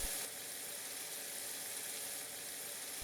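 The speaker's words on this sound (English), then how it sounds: "So you're gonna simmer this and saute it for about 8 minutes." Diced ingredients sautéing in a pot, giving a steady, soft sizzle with faint bubbling that holds even from start to finish at low level.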